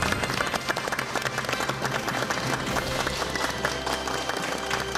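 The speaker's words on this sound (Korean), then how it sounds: "여러분 박수로 환영해 주십시오." Studio audience applauding to welcome a guest doctor on a Korean health talk show, a dense, steady wash of clapping filling the room, with music playing low underneath.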